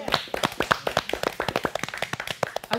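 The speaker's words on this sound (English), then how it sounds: "I want to give the round of applause to my top chef." Clapping from a small group at an American Cancer Society event, sharp distinct hand claps in quick, uneven succession, close and fairly loud, sounding like only a few people rather than a large crowd.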